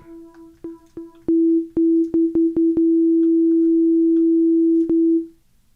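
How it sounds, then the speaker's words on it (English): Synthesizer rolling pluck patch built from a very short looped envelope: a steady tone broken by a series of quick plucked retriggers that speed up, then a long sustained note that cuts off cleanly, alone and fairly loud. "We'll make something that's kind of like a rolling pluck sound."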